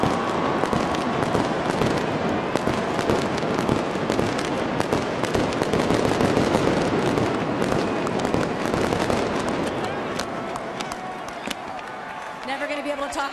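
Fireworks go off at the Peach Bowl after TCU plays Ole Miss in 2014. Dense, continuous crackling and popping bursts fill the stadium air, loud and unbroken, with faint crowd noise beneath.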